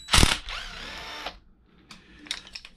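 A power driver backs out the 2 mm bolt holding the Traxxas E-Revo differential cases together. A loud burst opens into a steady whine lasting about a second, followed by fainter clicks and handling noises.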